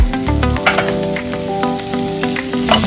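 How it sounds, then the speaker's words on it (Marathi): Onion frying in hot butter in a pan, a steady close sizzle with a few stirring scrapes and clinks over a background of music. "आता आपण एका पॅन मध्ये बटर गरम करणार आहोत। त्यामध्ये टाकायचं आहे कांदा"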